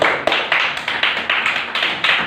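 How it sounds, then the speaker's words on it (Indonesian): A classroom group applauds with rhythmic, evenly paced claps that form a quick repeated beat, moderately loud and with no talk. "Tepuk tangan untuk kelompok 1."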